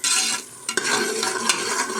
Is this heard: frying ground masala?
yes